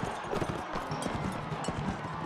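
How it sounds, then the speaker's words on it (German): Horse hooves gallop in the Mount and Blade Warband video game, a quick rhythmic clip-clop close by over busy battle noise. "Achso, das war nur das Pferd."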